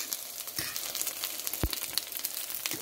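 Steak sizzling on a grill, seasoned with salt, pepper and garlic powder and stirred, giving a steady close frying crackle with one sharp tap partway through.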